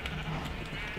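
A sheep in the video game Minecraft gives a single short bleat, close and clear against a faint background.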